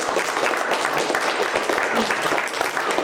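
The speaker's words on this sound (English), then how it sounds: "Can we give a round of applause to the panelists?" An audience applauds panelists at an anti-imperialism gathering, a dense, steady patter of many hands clapping that fills the whole moment, with some voices mixed in.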